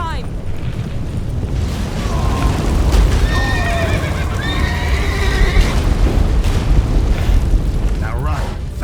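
A horse neighs and its hooves clop at a gallop in the video game The Witcher 3, with rumbling booms and a loud battle din underneath and a brief voice in the mix.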